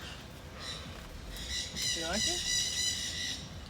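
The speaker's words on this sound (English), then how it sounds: "Zip it, you birds. Be quiet, parakeets." Pet parakeets squawk and chirp indoors, a burst of shrill bird calls rising in the middle over a low background while a person speaks briefly.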